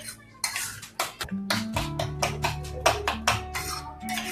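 Beaten eggs with spices and a pinch of hing being whisked in a bowl for a cheese omelette, giving a steady run of rapid clinking utensil strokes against the bowl, close and fairly loud, with a low hum underneath.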